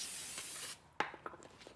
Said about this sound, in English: We'll just spray it down.